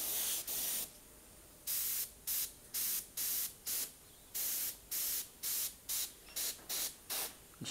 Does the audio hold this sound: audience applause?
no